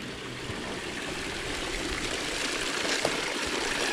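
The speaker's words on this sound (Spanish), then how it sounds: "Aquí tenemos la fuente." Water running from the village fountain in Talarn, a steady broadband splash and trickle heard close by outdoors, continuous for the whole stretch with a faint engine hum low underneath.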